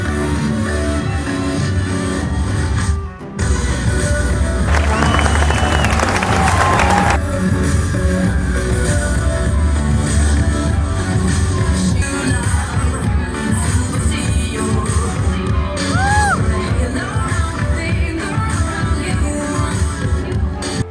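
A crowd at an office party shouts, whoops and screams while the boss dances to loud music. The noise is dense and continuous and stays loud throughout, with one brief dip near the start.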